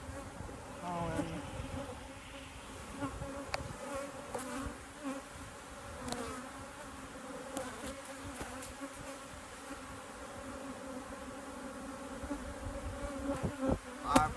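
Honey bees buzz steadily around an opened beehive during a walk-away split inspection, a close, continuous insect hum with brief louder passes near the end; no one speaks.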